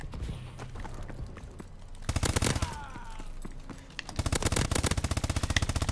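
Bursts of rapid, rhythmic gunfire in Call of Duty: Advanced Warfare crackle in two volleys separated by a quieter stretch with faint clattering.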